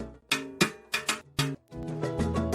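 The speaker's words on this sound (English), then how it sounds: "On the 2 side of the clave, the basic cascada pattern sounds like this." Timbales play a cascada pattern on the shell sides, the 2 side of the clave: a short phrase of crisp, bright strikes in uneven rhythm, close and clear, ending in a sustained ringing wash.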